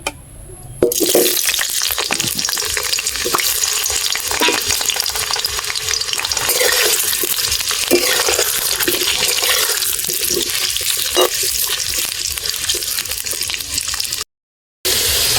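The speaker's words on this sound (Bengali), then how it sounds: "এবার কড়াইতে তেল দিয়ে মাংসের ঝোলের জন্য আলুগুলো ভেজে নেব।" Potatoes fry in hot oil in a wok for a village-style chicken curry, making a loud, continuous sizzle with occasional stirring clatter throughout, stopping briefly just before the end.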